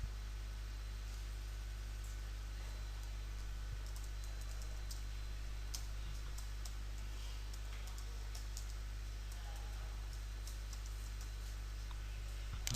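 Soft, scattered key clicks from typing code on a computer keyboard, faint and irregular over a steady electrical hum and hiss.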